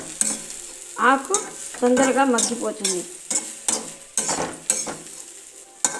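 Crushed tamarind leaves go into a hot tempering for chintaku pappu and are stirred with a spoon, giving loud bursts of sizzling and frying with scraping strokes against the pan while someone speaks in between.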